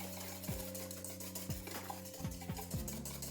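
A bun dough mixture with a pinch of salt is whisked in a bowl, giving a quiet, steady run of scraping stirs with a few sharper clinks of the whisk against the bowl. No one speaks.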